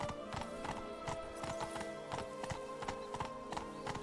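Horse hooves in The Witcher 3: Blood & Wine, a steady rhythmic clip-clop of a galloping horse, loud and close, running continuously without speech.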